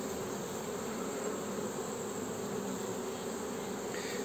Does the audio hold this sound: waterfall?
no